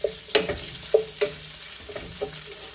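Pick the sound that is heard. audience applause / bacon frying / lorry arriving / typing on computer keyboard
bacon frying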